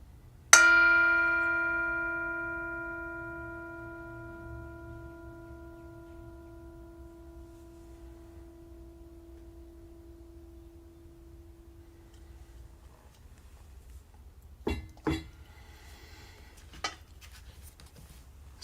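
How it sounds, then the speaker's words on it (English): A single meditation bell is struck once during a mindful Bible study, ringing loud and clear with a long, slowly fading tone that lingers for about twelve seconds, followed by a few faint knocks and rustles. "I am going to invite the bell to sound"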